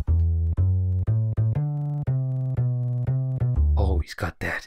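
A game character in Gadget Racers plays a deep bass line: a steady run of plucked low notes, one after another in an even rhythm, loud and alone, then breaking into brief noisy bursts at the end.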